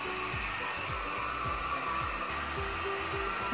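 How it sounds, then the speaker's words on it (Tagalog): A hair dryer blows hair dry with a steady whirring roar that continues throughout, its low tone pulsing rhythmically as the airflow shifts with the brushing strokes. "Ganun yung i-blower."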